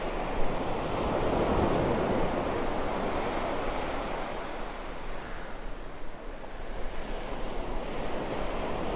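Ocean waves break continuously on the Cornish coast near Polridmouth Bay, a broad rolling wash of surf mixed with gusting wind buffeting the microphone, fairly near and constant.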